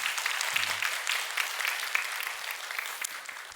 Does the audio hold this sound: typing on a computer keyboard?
no